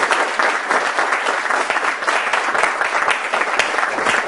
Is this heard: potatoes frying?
no